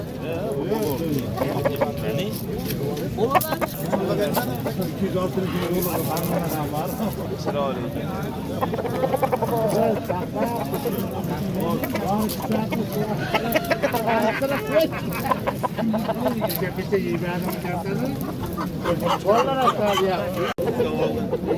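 Roosters and hens cluck amid a busy poultry market, their calls scattered under constant nearby conversation and crowd babble.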